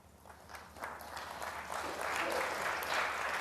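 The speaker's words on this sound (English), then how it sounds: "There's a little smattering of applause for frame ball" A light smattering of applause from the crowd at a snooker final, the Players Championship between Judd Trump and Kyren Wilson, starting thin and swelling into a steady, moderately distant patter of clapping.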